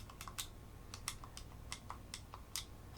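Clicky buttons on a PDP Little wireless game controller, a quick irregular series of faint sharp plastic clicks heard close up with no talking.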